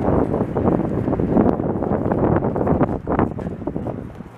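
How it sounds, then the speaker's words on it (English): Gusty wind buffets a microphone outdoors on a walk through Montreal's Ville-Marie borough, a steady low rumbling roar with bursts and flutters throughout, close and fairly loud with no speech. "Here, that gives you, show you how windy it is, eh?"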